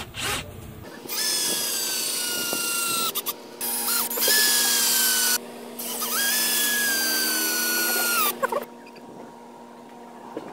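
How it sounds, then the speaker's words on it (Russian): Cordless screwdriver with a Torx 30 bit driving screws through a wooden block: several long whining motor runs, each rising in pitch and straining as the screw bites, separated by short pauses, close and loud. "Берем шурупы, берем шуруповерт с насадкой Торкс 30 и крутим"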